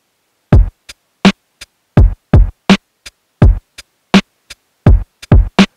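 Acoustic kick drum sample from an MPC2000XL sampler, played in normal mode: a run of about sixteen short, punchy thumps in an uneven groove, each with a sharp attack and quick decay, loud and dry with silence between hits.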